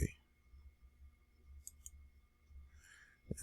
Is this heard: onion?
no